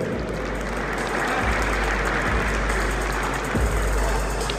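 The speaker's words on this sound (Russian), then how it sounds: "Ваши аплодисменты" A crowd applauds first-place winners at an award ceremony for Russia's first X-Arm tournament. The clapping is dense and steady throughout, with a low rumble of room noise underneath and no clear speech.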